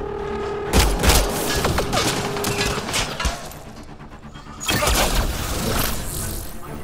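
Pistol shots ring out in the sci-fi shooter Mass Effect Andromeda, a loud burst of several sharp cracks early on and another cluster later, set against continuous game ambience and mechanical clatter.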